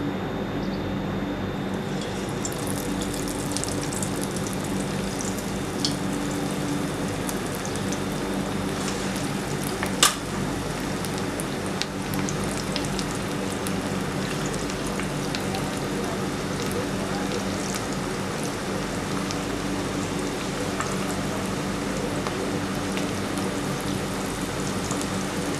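Potato and spinach pakoras frying in hot oil give a dense, even sizzle that stays loud and unbroken throughout, with a few faint pops rising above the crackle.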